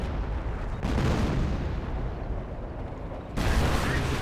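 Artillery barrage in Company of Heroes pounds an enemy base, a dense, continuous rumble of booms and blasts at steady loudness that surges again near the end, heard without talk.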